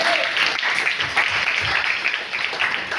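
A church congregation at a Sunday service claps in praise, dense applause carrying on for a few seconds with some voices mixed in.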